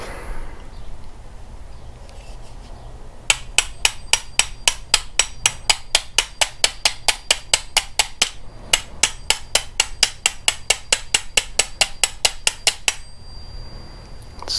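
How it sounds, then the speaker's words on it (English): A normal-size hammer strikes metal on an Exmark mower engine in a long run of sharp, ringing blows at a steady quick rhythm, briefly pausing midway before continuing, then stopping. "maybe we just take a good normal size hammer for this type of thing"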